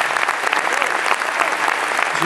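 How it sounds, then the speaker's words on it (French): A large audience at the Lumière film festival award ceremony gives thick, steady applause for the film editors in a big amphitheatre, loud and continuous throughout the brief moment. "Je voudrais qu'on applaudisse très fort les monteurs"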